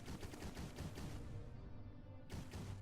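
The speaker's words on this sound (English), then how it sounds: "all of my battleships just fired their weapons and did basically 0 damage in comparison to my snipers" Battleships firing weapons in the space combat game Novus Aeterno, a quiet run of rapid, repeated bursts in quick succession, then a brief lull before another burst.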